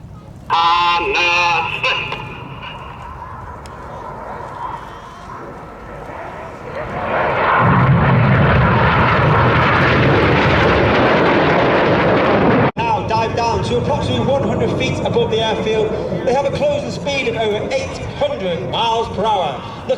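RAF Red Arrows jets pass low at the Sywell 2024 air show, a loud roaring jet swell building midway and lasting several seconds, with a public-address commentator talking before and after.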